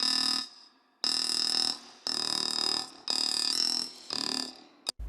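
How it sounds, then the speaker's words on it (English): Serum noise oscillator looping a glass lid sample, repeated as five loud, gritty, buzzing bursts, each about a second long with short gaps between, ending in a brief click. "I used a glass lid, but I did not do it as a one shot, so by itself it just continues"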